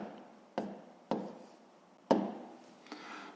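Pen or pencil strokes scratch on paper while numbers are written out during a fifth-grade decimal division exercise, a few short quiet marks with soft rubbing between them.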